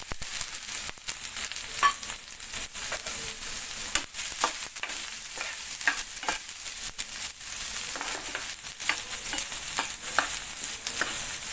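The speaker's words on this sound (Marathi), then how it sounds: "आता मी ही फ्लावर वाटलेली ती टाकणार आहे" Ground cauliflower paste frying in a pan for a Vidarbha-style flower chutney, a continuous crackling sizzle broken by repeated scraping stirs, close and steady with no voices.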